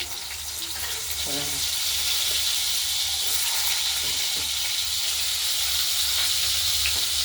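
Potatoes fry in oil over a tempering of cumin, chili and bay leaf, giving a continuous hiss and sizzle with a watery, steamy edge and a few light scrapes, close by, with no voices.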